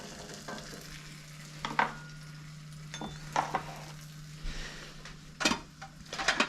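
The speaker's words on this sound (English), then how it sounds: "start to sizzle on the side, which means it's melting just the way you want it" A cheese quesadilla sizzles in a pan with a steady fry hiss, broken by several sharp scrapes and clinks of a spatula against the pan, close and fairly loud.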